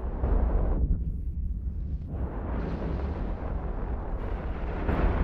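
Artillery fire in the military video game Joint Operations, a loud, sustained booming roar that fills the stretch with heavy low rumble and dense blast noise.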